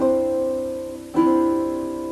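Two notes plucked together on a folk harp by weak beginner fingers, landing slightly apart in a soft, uneven pair; the sustained tones ring on and fade gently, alone without talk.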